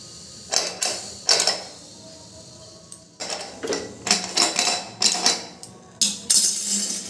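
A pressure cooker lid is opened after puffed rice has been cooked inside it. A string of sharp metallic clicks and clanks comes close up in uneven bursts, with brief quiet gaps between them.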